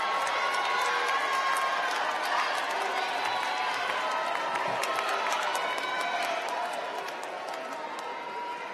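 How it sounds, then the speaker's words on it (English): Large crowd cheering and applauding for graduates at a university public health commencement, a steady dense wash of clapping and shouts that slowly tapers off. "What a cheer out there for these graduates, huh?"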